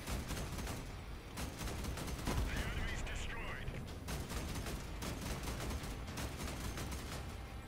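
Turret in a video game firing bursts of shots, rapid crackling gunfire in repeated volleys over a constant busy background, fairly faint and continuous across the clip.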